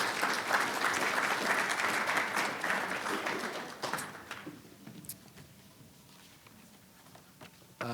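A lecture audience applauds to welcome speaker Travis Lenkner, with steady clapping that holds for about four seconds, then thins into a few scattered claps and quiet room noise.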